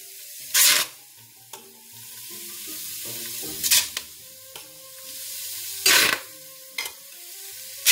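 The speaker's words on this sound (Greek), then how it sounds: "Ανοίγουμε το καπάκι μας και βάζουμε μέσα τα χταπόδια" Octopus dropped into a hot pot to sauté, giving a bright hissing sizzle that flares in three loud bursts between lower bubbling and clattering, close and without talk.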